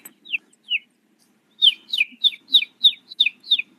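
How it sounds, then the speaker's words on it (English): A bird sings clear, bright chirps: two separate notes first, then after a pause a rapid run of about eight repeated tweets, close and loud against a quiet background with no talk. "There's a bird."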